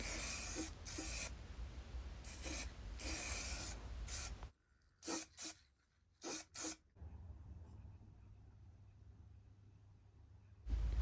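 Spray.Bike frame prep etch primer sprayed from an aerosol can onto a Raleigh 20 folding bike frame: a close series of sharp hissing bursts, some long and some very short, with quiet pauses between them.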